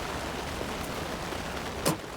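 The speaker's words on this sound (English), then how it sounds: "wait, it's raining again. When did it start raining again?" Steady rain falls in the video game Alan Wake 2, a dense even hiss filling the whole stretch with no pause, and a brief brighter splash or crackle stands out near the end.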